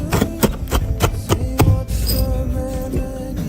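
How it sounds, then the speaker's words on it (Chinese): Bird's eye chili being chopped with a knife on a board, a quick series of crisp, close knocks for about two seconds, then the chopping stops and only a low hum remains. "小米辣切碎"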